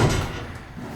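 The back door of an expedition truck build swings open, a single close thud and rattle at the start that fades into a soft rumbling tail, with no speech.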